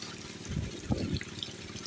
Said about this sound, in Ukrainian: Зараз водичка тече, зараз будемо бризкати.